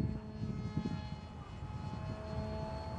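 A YF-23 Black Widow RC model jet with a high-speed propeller flies overhead during a test flight. Its steady, buzzing engine drone stays fairly loud and continuous throughout, with no talking.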